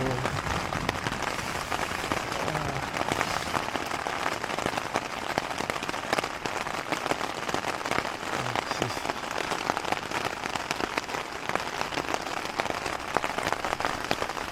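Steady, dense rain patters on a taut tent surface overhead, a continuous close drumming heard from inside, with no voices.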